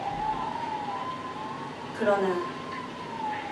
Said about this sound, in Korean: 소방차들의 사이렌 소리